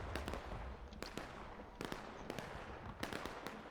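Faint, distant cannon fire in a Civil War battle game, sounding as several sharp booms spread out irregularly over a few seconds.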